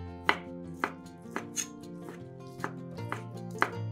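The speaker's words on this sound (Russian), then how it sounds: "Остывшее филе нарезаем сначала на пластинки, а затем каждую пластинку режем кубиками." A knife cuts cooled chicken fillet into cubes, seven sharp taps on a board at an irregular rhythm, close and fairly quiet over light background music, with no speech.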